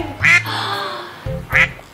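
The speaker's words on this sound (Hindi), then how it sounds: "ये तो एक बतख है।" A duck gives two loud, close quacks spaced about a second apart, alone against a quiet background.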